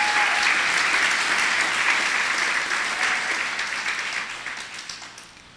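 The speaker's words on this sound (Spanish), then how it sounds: "dale un aplauso al Señor" Church congregation gives a sustained round of applause to the Lord during a Spanish-language sermon, loud and steady throughout, gradually fading toward the end, with no talk over it.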